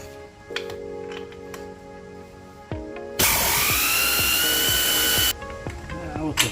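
A power tool loosens the lower shock bolt on a Jeep JKU, a loud steady whirring burst of about two seconds, preceded by brief clicks and lighter tool hum up close.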